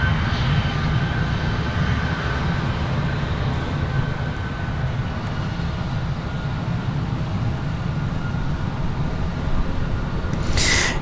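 An American Eagle regional jet climbs out from Raleigh-Durham International Airport, its steady broadband engine roar filling the whole stretch at high, constant loudness.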